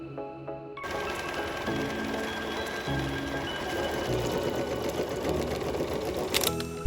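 A Bernina sewing machine fitted with a walking foot stitches steadily and loudly at close range, a continuous mechanical whirr with a fast rhythmic chatter, ending with a brief thump.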